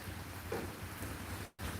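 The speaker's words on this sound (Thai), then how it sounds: "พอดีมี พายุแล้วก็ฝนตกครับทั้งวันเลย" Storm rain pours outside a solar-panel repair shop in Nakhon Ratchasima, Thailand, as a steady, soft, even hiss, with a brief dropout near the end.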